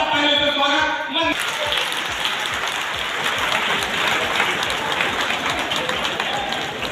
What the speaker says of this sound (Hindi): खड़े होकर जोरदार तालियों से स्वागत।